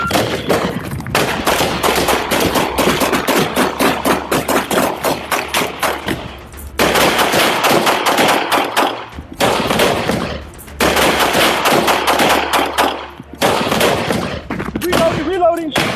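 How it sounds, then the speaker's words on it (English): Sustained bursts of rapid gunfire aimed at police, loud and close, in dense volleys separated by brief pauses, with faint shouting under the shots. "Shots fired."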